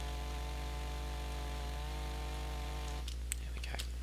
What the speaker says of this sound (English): the chainsaw is quite nice